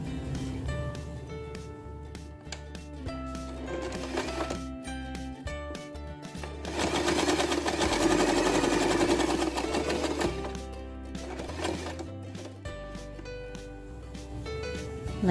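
A sewing machine stitches through the center of a baby's turban bow headband, running in short stop-start bursts and then a longer steady run in the middle, close and fairly loud.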